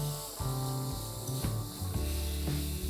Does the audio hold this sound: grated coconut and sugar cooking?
yes